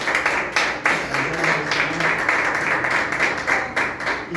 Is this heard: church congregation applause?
yes